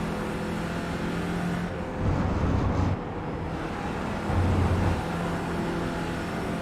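An Audi TCR race car engine in a video game hums steadily with two brief louder surges of revving, a continuous droning motor sound without speech.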